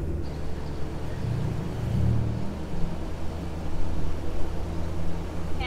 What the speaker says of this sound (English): Matt is gonna indulging me and letting us drive down the main street